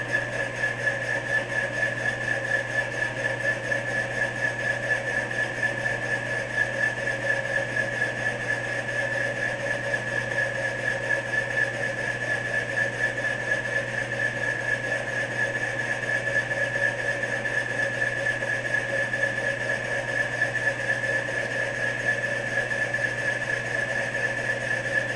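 Machine shop machine running with its gears cranked in and clutch engaged, a steady, unchanging mechanical drone with a persistent whine, moderately loud and continuous, with no talking.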